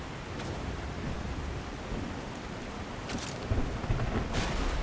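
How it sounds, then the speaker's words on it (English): Steady heavy rain in the video game The Last Caretaker, a dense constant hiss with faint distant thunder rumbles toward the end, no voices. "The rain."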